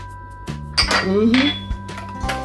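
Salad dressing stirred in a bowl, with a utensil clinking and scraping against the dish in short bursts, up close. A voice speaks briefly underneath.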